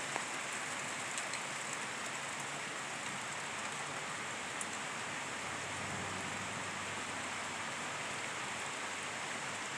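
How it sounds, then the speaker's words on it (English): Heavy rain pours down steadily in a dense, even hiss with scattered drop impacts, continuous and close for the whole stretch with no voices. "Rain is coming down that much heavier."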